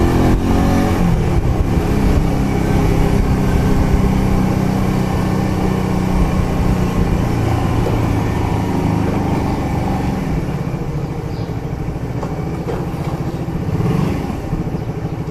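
Honda Shadow 125 motorcycle engine droning loudly and continuously while riding, a steady close-up roar with slight rises in revs and constant road and wind noise throughout.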